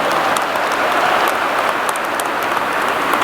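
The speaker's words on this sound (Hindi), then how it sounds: "जोरदार तालियों से स्वागत और अभिनंदन करेंगे" An audience at a Rising Rajasthan government event applauds to welcome Amit Shah, a loud, steady wash of clapping filling the whole moment.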